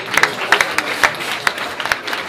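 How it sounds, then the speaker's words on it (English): Applause for a film producer at an onstage conversation event, a thin, brief patter of scattered clapping with irregular sharp hand claps, moderately close. "Give him a round of applause."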